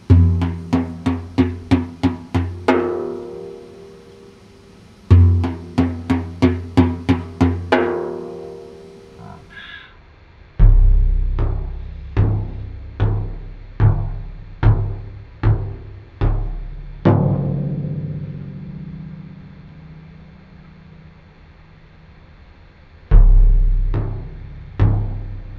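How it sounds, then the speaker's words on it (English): Frame drum played with a sharp right-hand accent followed by quick finger rolls, several crisp rapid strokes in repeated phrases with resonant low thumps and decays between them. "you can extend the roll starting directly after a right hand accent."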